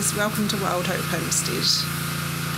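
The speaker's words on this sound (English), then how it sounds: "I asked him to borrow a pressure sprayer from work," A pressure sprayer runs in the background at a homestead while a chicken coop is cleaned, making a steady low mechanical drone under someone speaking up close.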